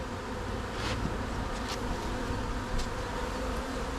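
A dense, continuous hum of many honey bees buzzing around a very busy hive, close and loud with individual bees droning past.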